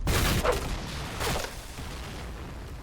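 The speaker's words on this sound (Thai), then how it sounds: "โอ้โหมีคนเล่นลูกระเบิดว่ะ" In a video game, a loud burst of explosive grenade booms opens the clip, followed by another blast about a second later, then a low rumbling background.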